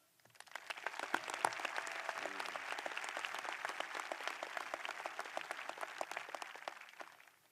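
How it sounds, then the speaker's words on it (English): A crowd applauds graduates at a high school commencement, with dense, sustained clapping that swells in within a second, holds steadily for several seconds and then fades out. "I would like us all to give a round of applause to our graduates"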